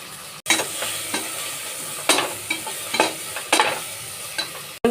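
Onion paste ground with chilies and curry leaves is stirred and fried with biryani masala powder in oil, with a steady sizzle broken by repeated scraping strokes of a spoon close by, and no talking.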